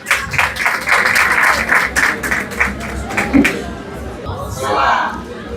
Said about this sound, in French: Je vous demande d'applaudir encore une fois Ariana.